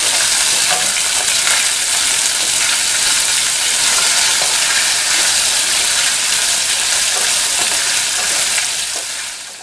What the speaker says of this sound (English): You're going to add green chillies and red chillies. And we're going to saute this.